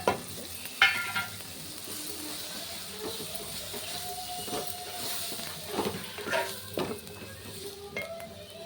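Chili powder and turmeric frying in a pan with tomato and onion, a steady hissing sizzle broken by scraping stirs and occasional clinks of a utensil against the pan, close and moderately loud with no speech.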